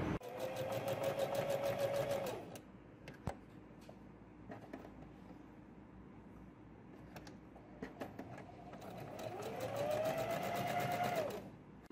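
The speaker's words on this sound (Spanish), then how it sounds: "Pasamos costura por los hombros, realizamos también un zigzag" A sewing machine sews a zigzag seam across the shoulders of a girls' blouse in two steady whirring bursts, with a quiet gap of small handling clicks between them.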